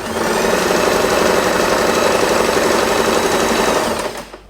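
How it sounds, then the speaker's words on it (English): A sewing machine stitches along folded fabric for a hair bow, its fast, even mechanical chatter running loud and close for about four seconds before it winds down and stops. "Fold it in half and sew this part."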